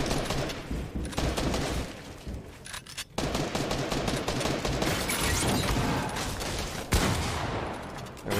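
Dense, continuous bursts of gunfire from a Fortnite match, rapid overlapping shots and automatic fire loud and up close for the full length, with a brief dip near the middle before the shooting resumes.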